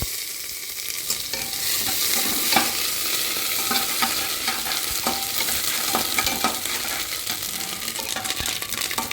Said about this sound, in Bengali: পাঁচফোড়নটা ভাজা হয়ে গেছে এর মধ্যে আমি আদা বাটার দিয়ে